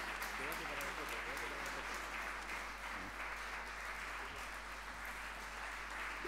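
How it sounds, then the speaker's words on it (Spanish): Applause at an Italian Immigrant Day ceremony, many hands clapping in a continuous, fairly soft wash over a constant low electrical hum, with a voice speaking beneath it. "Y el agradecimiento de todos nosotros muy especial con este caluroso aplauso"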